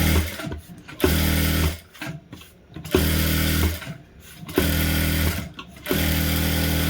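An electric sewing machine runs dummy stitches on a lined blouse, a steady whirring motor in several close, loud bursts separated by brief pauses, with no talking.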